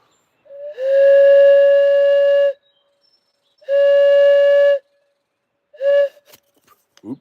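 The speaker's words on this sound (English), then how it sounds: "Got the old whistle." A shrill, steady whistle blown in two long blasts and then a short third toot, loud and close, with a small clatter at the end.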